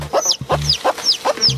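A mother hen clucks repeatedly on a grassy lawn, a close, rhythmic series of short clucks and chirpy calls in quick succession.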